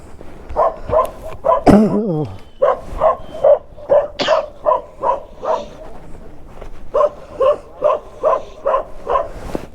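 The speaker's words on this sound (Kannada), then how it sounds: "ನಾಯಿ ಅಟ್ಯಾಕ್ ಬರ್ತೈತೆ" Dogs bark repeatedly in a steady rhythm of sharp yips, fairly close, with one excited howling whine early on and no talking.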